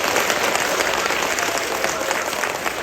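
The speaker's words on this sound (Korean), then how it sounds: "큰 박수 한번 보내주시기 바랍니다" Sustained applause from a large crowd at a choir concert, dense steady clapping filling the whole stretch without a break.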